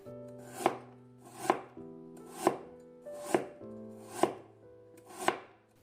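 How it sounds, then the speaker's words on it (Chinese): A knife slicing a peeled carrot into thin slices on a cutting board: six close, crisp chops at a steady, unhurried rhythm, with no other sound between them. "给它切成薄片"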